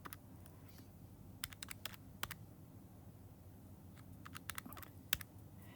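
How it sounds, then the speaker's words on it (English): Quick, light button presses on a calculator keypad come in short scattered bursts of sharp clicks over a quiet, faintly humming room. "Just type that in my calculator."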